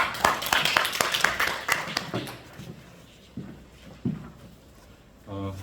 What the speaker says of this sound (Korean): 박수를 한번 모시겠습니다.